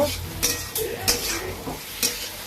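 Bottle gourd cooking with egg in a pan in a home kitchen, a low sizzle broken by several sharp spatula scrapes and clinks against the metal pan.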